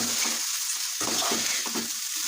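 Hot cooked rice is stirred and scraped through a sizzling pan, a continuous frying hiss broken by rhythmic spatula strokes, close and fairly loud with no talking.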